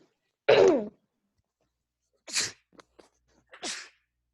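A teacher in an online class lets out one sharp, close sneeze, then after a pause a couple of softer breathy sniffs and a final quieter sneeze-like exhale, with no talking in between.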